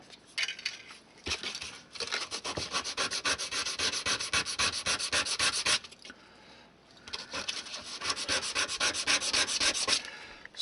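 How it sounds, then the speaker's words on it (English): Close, rhythmic rasping strokes sand a chamfer on the back of a small wooden corner post for an N-scale model house, in two long bursts separated by a brief pause, with no voices. "I've got to chamfer the back because the corner post is smaller than the thickness"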